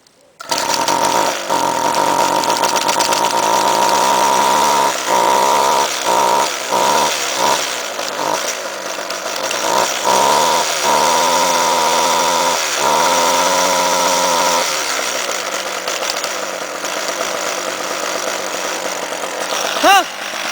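Gas-powered string trimmer or leaf blower, a small engine coughing and surging unevenly after a choked start, revving in sputtering bursts before settling into a rough, wavering run, loud and close.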